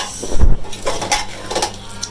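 A spoon stirring beef keema with potatoes, peas and fresh coriander in a metal pot, a few scraping clinks against the sides, close and fairly loud.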